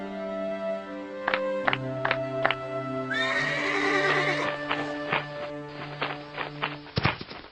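A Kuda Sembrani horse in a children's cartoon neighs loudly in a long whinny, preceded and followed by clear clip-clopping hooves, with background music underneath.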